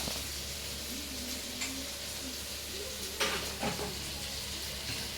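Curry bubbling and sizzling in a pot on a home stove, a steady close hiss with soft crackles and a couple of brief louder pops, no talking.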